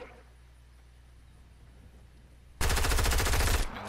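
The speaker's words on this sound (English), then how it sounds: "I'm gonna go check out where these shots are coming from." A sudden loud burst of rapid automatic gunfire in a video game match, lasting about a second after a stretch of quiet ambient game noise, with no talk.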